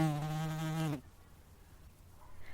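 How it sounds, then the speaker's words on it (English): A wasp gives a loud, close, droning buzz for about a second that cuts off abruptly, followed by faint room quiet. "a wasp flew into the room"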